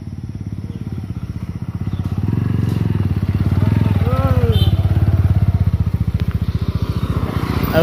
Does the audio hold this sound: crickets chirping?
no